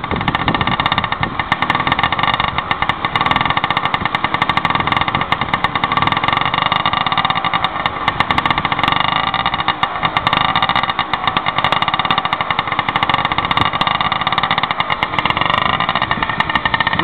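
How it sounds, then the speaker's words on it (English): A motorcycle idles close by with a rapid, throaty, popping exhaust note, running steadily and loudly throughout without a break. "Super Sports exhaust."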